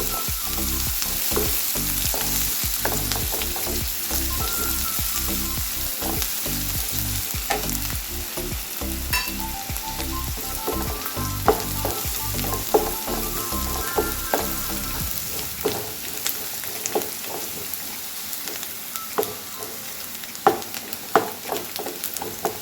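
Sliced onions sizzle steadily in a hot pan for mango rice, a dense continuous frying hiss with occasional stirring scrapes, then the sizzle quiets toward the end; no talking.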